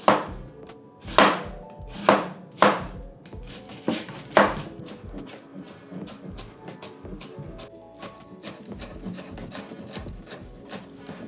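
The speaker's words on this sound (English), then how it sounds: "now it's time to also chop our onion into small squares" A knife chopping onion into small squares on a wooden board, a few loud, widely spaced strokes first, then a quicker run of lighter, regular cuts, close up and with no voices.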